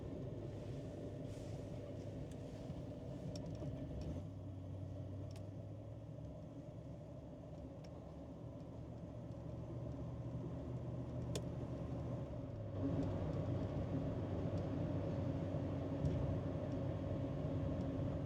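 A 1971 Lincoln Continental Mark III with a 460 V8 cruises down the road, a quiet, steady low rumble of engine and road noise heard from inside the cabin, rising slightly toward the end.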